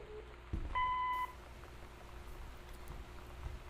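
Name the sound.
answering machine beep before messages play in the video game Gone Home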